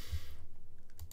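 Quick, light keystrokes patter on a computer keyboard in a short close burst, a few louder clicks near the end, no voices.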